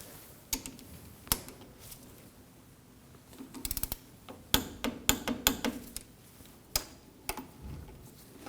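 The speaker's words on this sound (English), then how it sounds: "Now we can torque our caliper bolts to 31 foot-pounds." A torque wrench tightens the front brake caliper bolts on a 1993-2001 Subaru Impreza to 31 foot-pounds, giving sharp metallic clicks and ratcheting ticks, close up, with irregular pauses between bursts.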